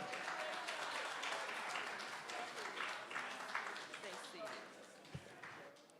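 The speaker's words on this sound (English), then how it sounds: "Let's thank our panel again for all the great work that we've been doing" A conference audience applauds a reunion panel, sustained crowd clapping heard from a distance at low level, with voices murmuring and talking faintly underneath.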